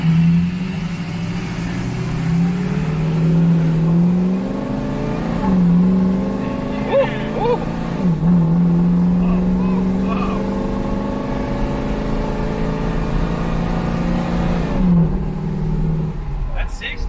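A loud 6.0 Powerstroke diesel engine in a Mustang revs and accelerates hard at full throttle, pitch climbing through gear changes, heard from inside the cab with voices talking over it.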